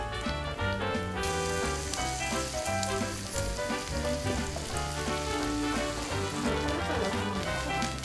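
Food sizzles on a hot grill with a steady crackling hiss, running under loud, rhythmic background music.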